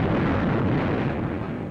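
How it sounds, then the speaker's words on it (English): Naval gunfire and explosions from a World War II battle at Tarawa roll together as one continuous, heavy roar of thunderous blasts, loud and dense throughout with no distinct gaps. "naval gunfire mounts to an unbelievable crescendo of thunder, smoke, and fire"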